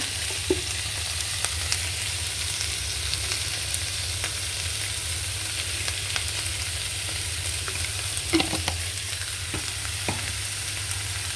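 Vegetarian rice noodles and vegetables stir-fry in a pan with a steady, close sizzle, broken by a few light clinks of the spatula against the pan.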